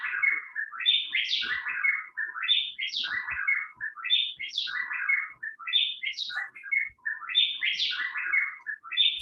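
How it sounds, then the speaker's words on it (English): A loud, rich wren song repeats in rolling phrases of bright, warbling notes, delivered continuously and close without pause. "They got a big song to go with it that sounds like this."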